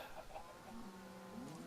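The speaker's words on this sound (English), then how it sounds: "We have a fair number of chickens in here" Chickens cluck softly in a livestock pen in a video game, a steady low murmur of fowl noise with no speech over it.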